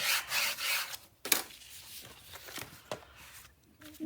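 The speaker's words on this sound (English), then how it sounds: "now I'm going to turn her over and give it a good burnish." Close, dry rubbing strokes from burnishing a paper panel for a Stamperia Vintage Library mini album, in several scratchy bursts with short pauses between them and no talking.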